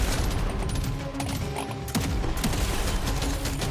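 Gunfire in Deep Rock Galactic: Survivor, with continuous dense automatic shooting and crackling impacts that stay loud and busy from start to finish and no voices over them.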